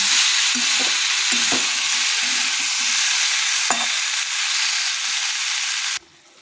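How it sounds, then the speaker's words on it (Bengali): Mixed vegetables coated with poppy seed and melon seed paste frying in a pan, a steady loud sizzle with scraping stirs throughout, cutting off abruptly near the end. "দিয়ে ভালো করে আবার নেড়ে নেব পুরো সবজিটাকে।"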